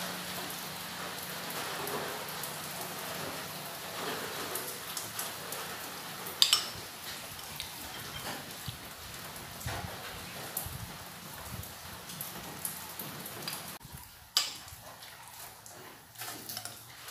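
Steady rain falls and patters on surfaces throughout, a constant near hiss with occasional louder drops and knocks, and no voices heard.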